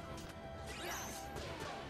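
Rocks being smashed in Kingdom Hearts II, a crunching crash with scattered debris clatter mixed into game sound, moderately close and continuing over a couple of seconds.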